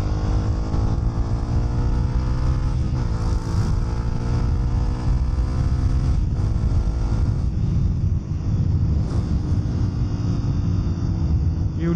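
Engine drone of a new motorcycle riding at speed and moving out to overtake a car, steady and loud throughout with wind rush, a couple of brief surges as it passes.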